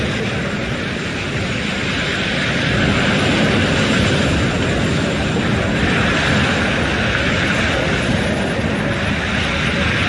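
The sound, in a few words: drone flying overhead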